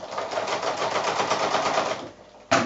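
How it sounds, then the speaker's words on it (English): A sewing machine stitching PVC coated fabric for a small shopping bag, running in a fast, steady rattle close by before it stops briefly and then starts again. "it is a little bit tricky to sew,"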